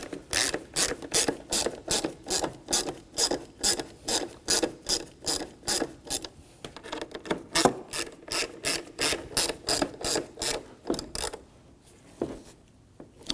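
A ratchet wrench clicks in fast, even bursts while tightening bolts on the HID ballast control module of a 2007-2013 BMW 328i, close and crisp, pausing briefly before a few final clicks.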